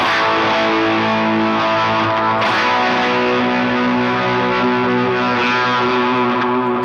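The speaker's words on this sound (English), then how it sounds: "It's actually got some distortion on there too." A sustained, heavily distorted electric guitar chord rings out loud and thick, washed in reverb, with a fresh strum midway and no voices, playing lead guitar.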